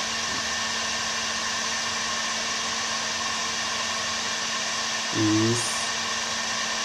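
A Bosch GHG 180 heat gun runs with a steady, loud whirring fan and heater hum throughout, holding constant apart from a brief tonal shift near the end and a faint voice.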